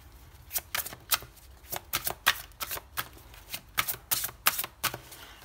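Oracle cards are shuffled by hand, giving a run of crisp riffling flutters and sharp papery slaps in an uneven rhythm, close and fairly quiet with no talk.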